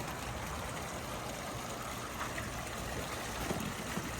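Fresh water pours steadily into a heavy-duty portable aquatic tank, a continuous close rushing trickle with no pauses and no talking.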